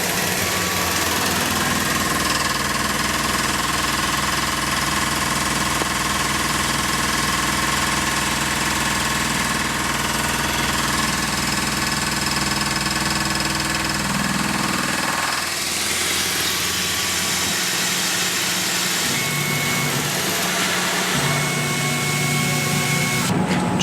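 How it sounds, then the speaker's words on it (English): A milling machine runs at about 1200 RPM taking a shallow face cut across a gage block, a loud, continuous machine drone with steady whine that changes character partway through as the cut ends. "we're going to run about 1200 RPMs and 7 inches a minute and just clean off the face of this material"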